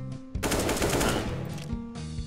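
Loud, sustained automatic gunfire from a CS:GO competitive match, a dense burst of rapid shots lasting well over a second, with quieter game sounds before and after.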